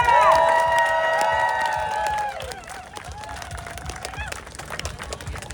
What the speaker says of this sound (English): Please give our awesome team a nice round of applause